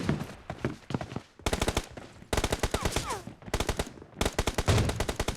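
Rapid bursts of automatic gunfire from the video game PUBG Mobile, several loud close volleys separated by brief pauses, with faint voices in the background.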